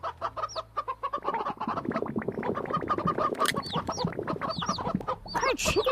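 Chickens cluck and squawk continuously on a farm in the VRChat video game, several birds close by with busy overlapping calls and rising squeals.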